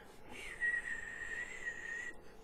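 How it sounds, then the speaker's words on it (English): A man whistles one steady, sustained note for about two seconds, fairly soft and alone, with a quiet room behind it and no other sounds. "I finally taught myself how to whistle"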